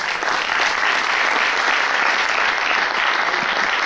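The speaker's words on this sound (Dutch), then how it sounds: "Mag ik een applaus voor de man met de groene vingers, lijsttrekker van de D66" Loud, dense applause from a debate audience greeting the D66 lead candidate at a local political debate in Venray, steady continuous clapping filling the room without pause.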